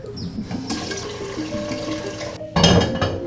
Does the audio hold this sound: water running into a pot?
yes